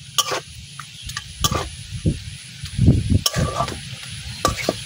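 Spatula stirring taro stems and shrimp curry in a pan, with repeated scraping strokes and soft sizzling close by, no one talking.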